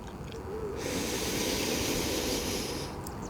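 A long, deep breath is drawn and released during a yoga forward fold, a soft, steady airy hiss lasting a couple of seconds, heard up close against quiet room noise.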